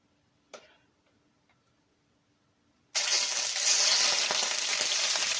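Butter hits a hot, seasoned cast iron skillet after a few quiet taps, bursting into loud, continuous sizzling and crackling popping that holds steady to the end.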